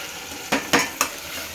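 Three quick metal spoon scrapes and knocks against a pot as tomato puree from four or five tomatoes is stirred into a curry, close and distinct over a low steady sizzle.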